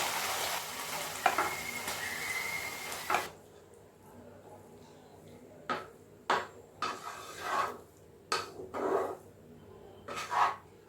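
Cooked rice being mixed into tamarind paste for puliyodharai, starting with a hissing sizzle that cuts off, then separate scraping and rubbing strokes of stirring at an irregular pace, close and fairly quiet.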